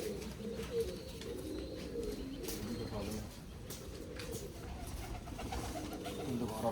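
A pigeon coos softly through a low, steady background murmur, the calls gentle and fairly close.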